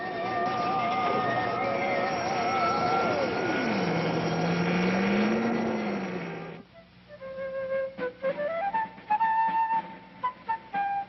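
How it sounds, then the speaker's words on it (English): Cartoon spaceship motors reversing for landing: a loud, steady engine drone with a warbling pitch that sweeps down and then rises, then cuts off into brief musical tones. "Reverse motors, Professor. Prepare for landing."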